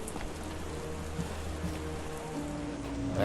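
Rain falls steadily in the game Sherlock Holmes The Awakening, a continuous patter of drops on surfaces with a low ambient hum beneath and no voices.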